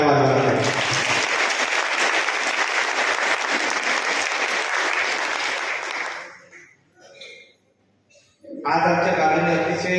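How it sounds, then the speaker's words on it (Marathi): An audience at a Sahaja Yoga gathering in a village bursts into sustained, loud applause that dies away after several seconds, followed by a quiet gap and then someone speaking. "सर्वांनी जोरदार आपल्या आईसाठी टाळ्या वाजवायला पाहिजे."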